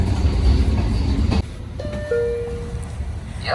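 A loud, heavy rumble of a high-speed train rolling along the rails on the Oslo to Bergen line in Norway, then a quieter hum with a drawn-out squeal of wheels or brakes.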